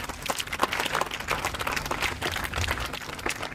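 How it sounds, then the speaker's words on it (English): Students at a school morning assembly for World Science Day clap for scientists, a dense, steady patter of many hands that continues throughout without pause. "So clap for the scientists also for their remarkable work."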